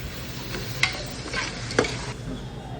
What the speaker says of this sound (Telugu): ఈ స్పైసెస్ అన్నీ కూడా బాగా కలుపుకోండి.